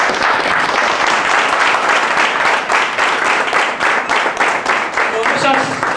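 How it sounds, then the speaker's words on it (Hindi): Dense, loud audience applause from a crowd at an Indian training seminar, continuous clapping filling the hall for several seconds without pause. "ताली हो जाए।"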